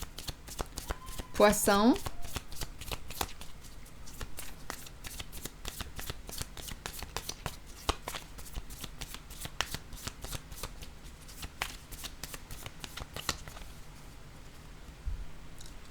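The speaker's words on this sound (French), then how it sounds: "Je vais déposer une carte sur prison" Tarot cards are shuffled in a long, brisk riffle of rapid crisp flicks close by, with a brief voice speaking near the start and a card laid down at the end.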